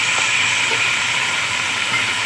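Tomatoes fry with ginger paste and green chili paste after golden onions, giving a steady, even hiss of sizzling oil heard alone for a couple of seconds.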